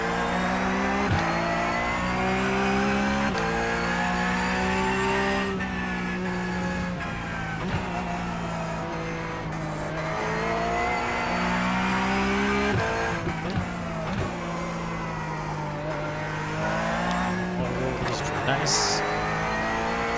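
A Porsche Cup car in a racing video game on the VIR circuit drones steadily near, its engine note rising and falling through gear changes on the first lap, with occasional tire squeal and someone talking over it.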